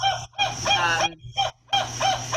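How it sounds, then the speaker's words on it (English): Adult northern spotted owls call in a recording played near a rare nest: loud, harsh, honking barks come in close, repeated bursts separated by short silences. "The audio you're hearing is a recording of spot owl calls."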